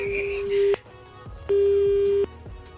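A telephone busy tone sounds after a call is cut off: a steady mid-pitched beep in long, evenly spaced pulses, moderately loud, with a faint murmur beneath.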